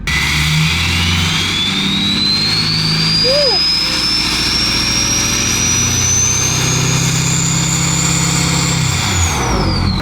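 A 6.7L Powerstroke diesel truck engine fitted with a large turbo revs up loudly nearby, a rising turbo whistle climbing over a rumbling engine, holding high before dropping off at the end.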